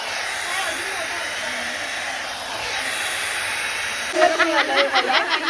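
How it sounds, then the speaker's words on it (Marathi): A hair dryer blows steadily at close range with a constant airy hiss, and a voice comes in briefly near the end. "ड्रायर कसं आहे."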